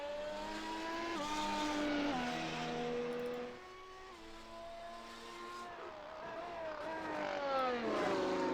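A Formula One race car in F1 Challenge on the Bathurst circuit, running off onto the grass at the final turn: a high, whining engine note rising and dropping through gear changes, steady and moderately loud, with faint commentary beneath.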